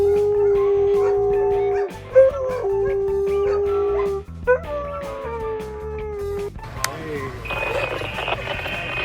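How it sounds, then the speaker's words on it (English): A dog howls in long wavering tones while piano notes play along, the howls loud and close, rising and breaking off in turn with brief pauses between phrases. "this dog can play the piano on its own and perform with the demeanor of a true artist"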